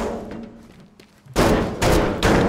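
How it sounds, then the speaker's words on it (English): Heavy sledgehammer blows smashing destructible structures in the video game Teardown: after a quiet stretch, three loud, crunching impacts land in close succession, each leaving a brief rumbling, debris-filled tail. "Sledgehammer, ooh."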